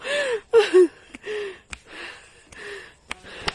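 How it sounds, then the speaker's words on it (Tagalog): Heavy, labored breathing close to the mic while climbing a mountain: several long panting breaths and gasps with short pauses between them. "Grabe hingal ko."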